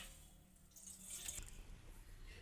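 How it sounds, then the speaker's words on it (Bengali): A little water runs into a cooking pot for a pitha dough, a soft, quiet trickle and splash that swells for a moment in the middle and then fades, heard alone. "তো হাঁড়িতে কিছুটা পানি দিয়ে দিচ্ছি।"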